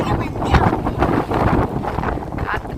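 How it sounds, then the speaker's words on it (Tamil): Strong wind gusts buffet the microphone before rain arrives at a home, a steady broadband roar with surges and fluttering rumble throughout. "காற்று பலமா அடிக்குது."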